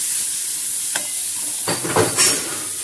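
Coriander powder and salt are stirred into a dish over a steady background hiss, with a few soft spoon scrapes and clinks clustered toward the end.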